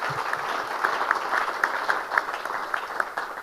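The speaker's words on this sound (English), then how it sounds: "Let's give them a warm round of applause" Audience applause at a high-level ministerial conference panel, a steady patter of many hands clapping in a hall, moderately loud and sustained for a few seconds with no speech over it.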